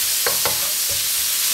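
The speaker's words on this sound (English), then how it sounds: "Quickly get my spoon and start mixing that." Curry spices stirred in a pan with a spoon, a few quick scraping strokes over a soft, constant hiss of frying, close up with no speech.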